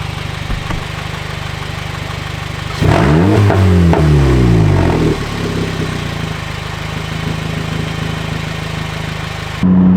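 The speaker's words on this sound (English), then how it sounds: "on the highway, yeah, my exhaust is too loud" A Honda Fit with a Weapon R cold air intake and a loud aftermarket exhaust idles steadily, then revs sharply for about two seconds, rising and falling, before settling back to a droning idle; no talking.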